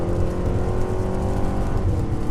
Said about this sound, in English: And I'm downshifting using the paddle shifters, instantaneous.